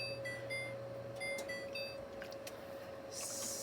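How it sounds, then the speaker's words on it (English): A kitchen timer gives a run of short, high electronic beeps as it is set for ten minutes during pasta and meatball cooking, over a steady low appliance hum. "we're going to put our timer on for 10 minutes"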